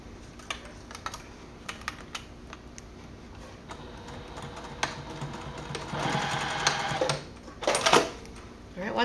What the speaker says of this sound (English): I'm just going to sew at a quarter of an inch seam allowance along the top edge here